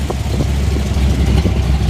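A 1972 Chevrolet Chevelle V8 with a lumpy performance cam idles close by, a deep uneven rumble with loping pulses throughout.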